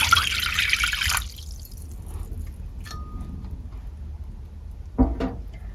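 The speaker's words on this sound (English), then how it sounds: "So in this bowl, I'm going to put 1 cup of warm water," Warm water pours into a bowl to activate yeast for homemade pizza dough. A brief, splashy pour runs for about a second, followed by near-quiet and a small splash or drip near the end.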